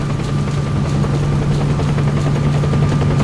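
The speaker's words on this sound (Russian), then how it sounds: "Вертолет тут круги нарезает" A helicopter circles steadily in the S.T.A.L.K.E.R. mod Reborn, its rotor drone loud and constant with a strong low hum and rapid chopping pulses throughout, no voices.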